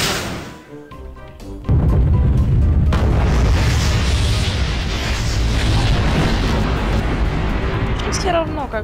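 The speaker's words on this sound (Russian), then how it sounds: "Не хотел я эту бомбу тоже взрывать, но мне придется." A bomb explodes in Garry's Mod, a sudden loud boom that gives way to a long, sustained roaring rumble, with someone talking over the game sound.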